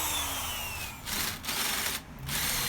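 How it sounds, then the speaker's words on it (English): A drill bores a hole just over 7mm through 1050 medium carbon steel, a steady close whine with a few brief pauses and pitch dips as the bit bites. "This final hole size that I'm drilling is just a tad over 7mm."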